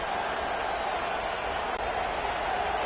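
Steady roar of a stadium crowd in College Football 25 during a Colorado Buffaloes versus Nebraska Cornhuskers game, a dense, constant wash of cheering and noise that holds loud and even throughout.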